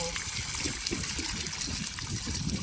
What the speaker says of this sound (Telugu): వాటర్ అనేవి ఫుల్గా వచ్చేస్తున్నాయి